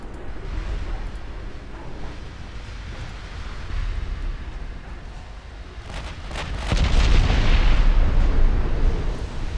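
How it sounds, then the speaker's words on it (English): Naval guns fire volleys in a battleship fight in Ultimate Admiral Dreadnoughts, with deep rumbling booms and sharp cracks over a low, steady ambient roar that swells into a heavier salvo toward the end. "Lucky first round, first volley."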